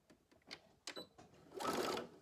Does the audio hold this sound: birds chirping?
no